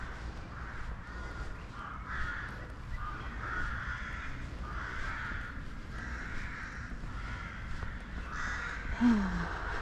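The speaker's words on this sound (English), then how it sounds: "Oh my god, the crows are taking over" Crows caw in a rhythmic series of harsh calls, about half a dozen moderately distant, over faint outdoor street ambience on a walk in Ploiesti, Romania.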